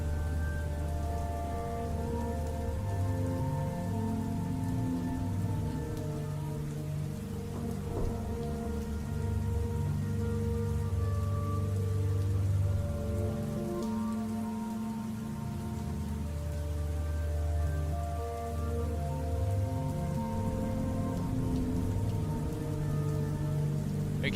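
Steady rain falling from a music video, a constant dense hiss of drops on surfaces with faint low rumbles, alone and unbroken under a sustained musical tone.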